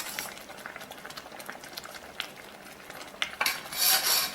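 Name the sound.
drumstick leaf coconut milk kootu boiling in pan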